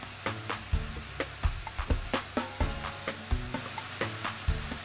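A zucchini omelette of scrambled eggs sizzles steadily in a covered pan, a constant frying hiss broken by regular soft thumps and no talking.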